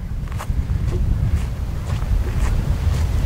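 Strong outdoor wind buffets a microphone at an evening fireworks display, a loud continuous low rumble with gusty surges throughout.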